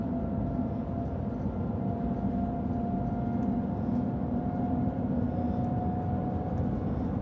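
Inside the Shanghai Maglev train while it accelerates at high speed, a steady low rumble and roar fills the cabin with a faint whine running through it, continuous and even throughout.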